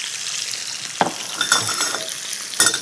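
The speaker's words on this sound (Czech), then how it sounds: "Přimáčknu tu rybu dobře na tu pánev, aby ta kůže byla celou tou svojí plochou na té pánvičce, aby se nám dobře vypekla." Salmon fillet frying skin-side down in a hot pan, a steady soft sizzle with a few sharper crackles and spits popping up now and then.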